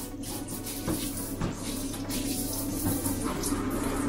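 Hose water running steadily over fishing rods and reels, a constant close splashing and trickling rush with a low hum underneath.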